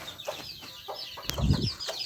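Chicken clucking close by on a rural homestead, a few short clucks in a loose, uneven rhythm with some farmyard background noise around them.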